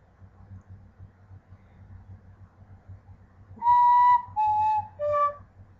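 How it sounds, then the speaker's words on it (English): Three clear, bright tin whistle notes, each held briefly with small gaps between them, sounding over a low, steady background hum. "teaching tin whistle"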